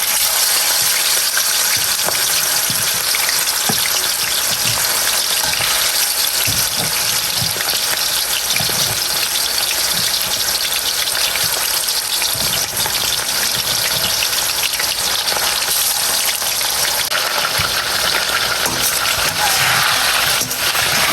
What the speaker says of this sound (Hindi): ऑयल गर्म हो गया है तो अब हम उसमें मैरिनेटेड चिकन डाल देंगे।